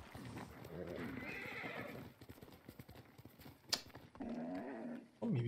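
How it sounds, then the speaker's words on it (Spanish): A horse in the video game Ghost of Tsushima trots in with rhythmic clip-clopping hooves and whinnies loudly, close and clear, while someone talks over much of it. "Voy a llamar al caballo, a ver si viene."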